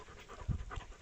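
Kangal dog panting close by, quick soft breaths with a couple of stronger huffs, faint and brief.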